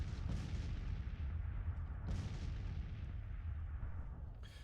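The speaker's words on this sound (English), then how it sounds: "3 batteries all firing at this big old clump" Several artillery batteries firing in a Civil War strategy game, deep rumbling booms rolling one after another with a sharper blast near the start and another midway, dense and loud with no talk.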